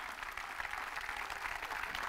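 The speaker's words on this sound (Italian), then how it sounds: "Facciamo un applauso anche al settore giovanile" Faint, steady applause from a crowd in a large arena fills the clip at the official presentation of the Carpegna Prosciutto Basket Pesaro team, a continuous wash of clapping with no voices over it.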